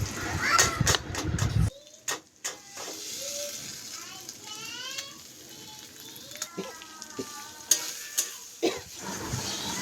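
Leftover rice frying and being stirred in a pan, with a steady sizzle and repeated scraping strokes close by, as children's voices and other household sounds come and go around it.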